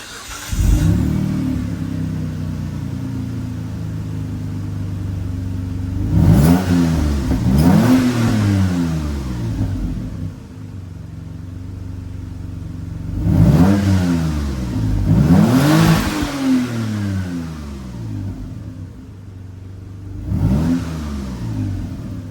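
A Mitsubishi 6G72 V6 fitted with a new replacement exhaust revs up repeatedly over a steady idle, giving several sharp rising-and-falling bursts in clusters. The engine is loud and close, with no talking.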